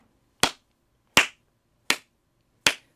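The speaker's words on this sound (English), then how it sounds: "Let's clap that rhythm one more time." Four sharp, evenly spaced hand claps ring out alone in a quiet room during a flute lesson, each one crisp and close with a short decay.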